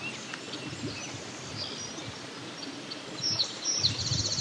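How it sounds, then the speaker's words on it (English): A song sparrow sings in open farmland along a backroad, a short run of bright chirped notes near the end over a quiet outdoor hum. "Song sparrow."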